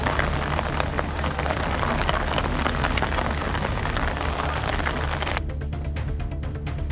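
Heavy rain pouring down at Thanjavur Big Temple, a dense, loud, continuous hiss of drops striking surfaces, breaking into crisper individual patters near the end.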